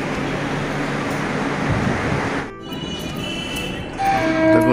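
A train pulls into New Garia railway station, a loud steady rushing rumble that drops away abruptly partway through, leaving a quieter clatter with faint high squeals and a swelling roar near the end.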